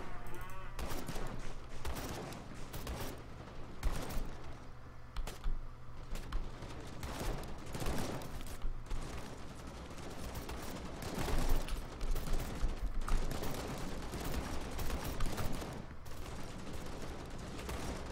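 Dense, continuous gunfire from the video game Call to Arms: overlapping rapid shots and bursts with heavy low rumble, loud and sustained across a chaotic multiplayer battle.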